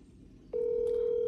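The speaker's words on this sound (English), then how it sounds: "Oh, her phone actually ringing this time." A phone sounding a steady electronic ring tone that starts abruptly partway through and holds as one continuous tone, fairly loud and close.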